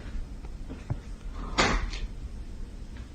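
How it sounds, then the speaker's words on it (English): An attic door in a house swinging and knocking shut on its own, a single wooden clunk and creak standing out mid-clip over steady low background hiss. "this door has been like opening and closing"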